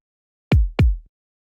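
A deep kick drum sample from a nu disco pack, heavy in low end, strikes twice in quick succession. Each hit is booming and sustained, heard alone and up close.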